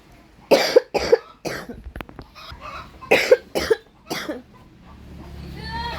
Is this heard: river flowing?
no